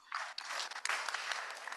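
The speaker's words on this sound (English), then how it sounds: "I'm sure that will get a little bit of applause." Short burst of applause at a Brookline town meeting, crowd clapping that starts abruptly and stays dense and fairly loud for under two seconds.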